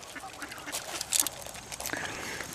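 Duck at a bird sanctuary quacking nearby in a few short, bright bursts over outdoor background noise, with another call toward the end.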